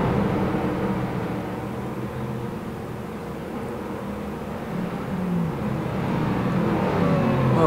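A Ford Shelby GT500 racing car in a video game roars past, a steady loud engine drone with tyre noise that swells slightly toward the end, heard alone without talk.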